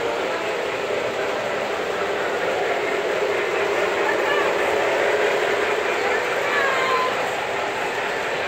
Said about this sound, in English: The big train exhibit for the Ronald McDonald House.